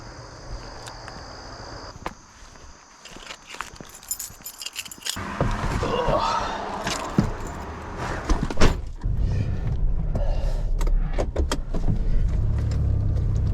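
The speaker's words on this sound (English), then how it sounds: "Let's keep driving." Keys jangle and a car door thuds before the engine settles into a steady low rumble of the car driving, close and continuous through the second half, with no talk.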